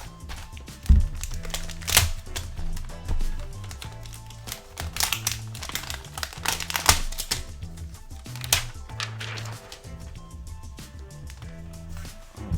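Paper warranty booklets and literature rustle and crinkle as they are pulled from an ASUS ROG Zephyrus G16 laptop box, close, busy handling noise with thumps, taps and papery crackle throughout, without speech.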